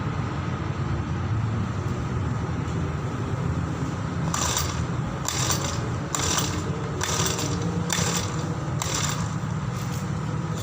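A grass cutter engine fails to start: a steady mechanical rattle runs throughout, and about halfway in a series of rhythmic pull-cord cranking bursts repeats roughly every second without catching, recorded close up with no talking.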